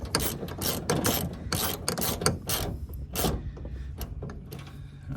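A socket wrench ratchets in quick repeated bursts of clicking pawl strokes, close and fairly loud, with short pauses between runs and no talking.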